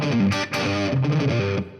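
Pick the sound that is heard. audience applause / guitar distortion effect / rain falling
guitar distortion effect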